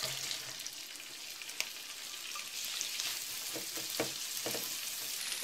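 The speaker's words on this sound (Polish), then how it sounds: "Będę je podsmażać do zeszklenia." Onion and leek frying in a mix of butter and olive oil, a steady close sizzle with light crackles and a few soft pops, no voices.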